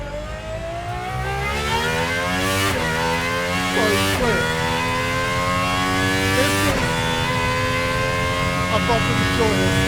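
A Gordon Murray GMA T.50s with its high-revving V12 screams loud and close through repeated upshifts, its engine note climbing, dropping sharply at each gear change, then climbing again, all under continuous driving noise.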